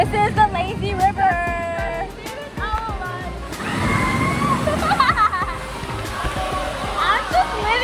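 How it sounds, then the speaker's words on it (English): Water sloshes and churns steadily in the lazy river at Volcano Bay water park in Orlando, a continuous wash of splashing close by, with people talking over it. "This is the lazy river."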